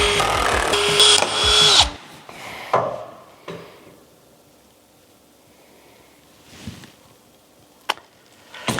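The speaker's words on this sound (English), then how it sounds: "Drill bit broke." A power drill whirs loudly for about two seconds, then stops as the drill bit breaks; scattered clunks and knocks of tools follow in a quiet room.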